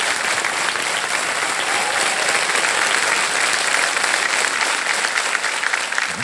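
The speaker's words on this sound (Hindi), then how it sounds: "एक बार तालियां बज जाए" A studio audience on a quiz show claps in sustained, dense applause, loud and steady throughout with no break.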